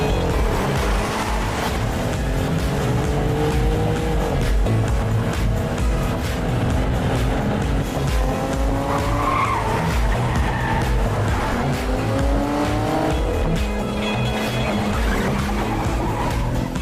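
A car pulling away for a joyride, its engine revving with rising gear sweeps and tire squeal, loud and steady throughout with no talk.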